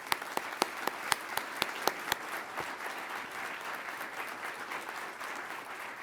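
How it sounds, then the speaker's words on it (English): Applause for instructor pilots at a military undergraduate pilot training graduation ceremony, opening with a run of sharp separate claps that swell into sustained crowd clapping filling the hall. "A round of applause for our instructor pilots."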